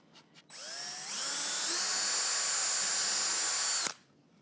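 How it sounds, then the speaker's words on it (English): A power drill whirs up, its motor pitch rising as it bores steadily into wood for a few seconds, then stops abruptly; short clicks before it starts. "I'm gonna take my drill and make sure it's rotating clockwise so that I can"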